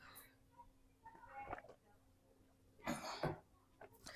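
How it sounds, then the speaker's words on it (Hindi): A person coughs a few times, with throat clearing, in a quiet room during a spoken biology lesson. The coughs come in two brief clusters, and there is soft talk around them. "सॉरी यार, खांसी आ रही है, एक मिनट रुक जाइए।"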